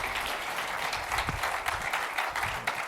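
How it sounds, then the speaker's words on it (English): Audience members at the Adobe MAX creativity conference fill a large hall with a steady, even wash of applause that holds at a constant level throughout. "You guys are clapping."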